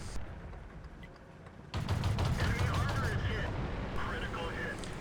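Tank cannon fire in the online battle game World of Tanks on the Malinovka map, a dense run of booming shots and crackling gunfire rising sharply partway through, with a commentator talking over it.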